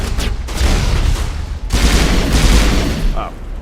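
Shredder rounds fired in the video game Mass Effect 1 Legendary Edition, dense loud bursts of automatic gunfire with booming low rumble, nearly continuous across the few seconds with a brief gap midway.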